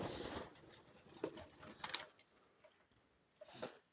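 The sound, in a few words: pet dove cooing at bedtime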